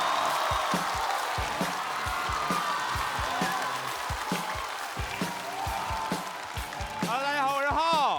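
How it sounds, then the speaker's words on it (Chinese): A studio audience at a stand-up comedy show applauds to welcome a comedian, with steady dense clapping that continues for several seconds before a voice begins speaking near the end. "我们掌声有请浩"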